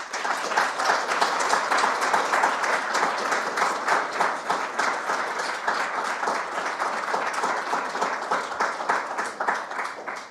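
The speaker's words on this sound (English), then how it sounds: "It's a very long and wordy round of applause as well." Sustained audience applause after a conference talk on decentralized science, a dense, steady wash of many hands clapping for about ten seconds without pause.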